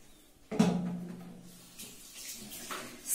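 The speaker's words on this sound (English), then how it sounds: "step 1, wet your hands and apply soap or hand wash" Water from a tap running while hands are washed with hand wash, a soft hiss that starts abruptly and then fades into faint splashing, close and quiet.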